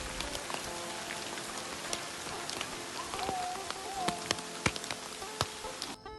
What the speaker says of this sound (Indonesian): Hujan tak kunjung reda, akhirnya kita melanjutkan perjalanan.